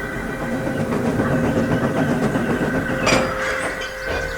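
A train is hauled up a hill with a steady, close rumbling chug and faint rattling, and a short hissing burst comes near the end. No one speaks.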